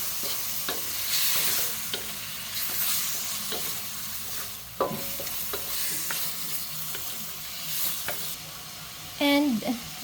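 Chicken liver sizzles and crackles steadily in a hot pan while being stir-fried for chop suey, with scraping stirs and bursts of spattering throughout and a brief voice near the end.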